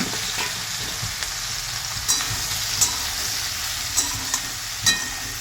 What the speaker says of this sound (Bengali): এবার সোয়াবিনগুলো ভেজে নেব।